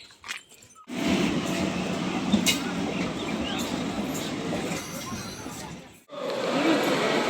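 A train rumbles steadily close by at Sealdah railway station for several seconds, a loud continuous roar with a brief pause before it starts up again.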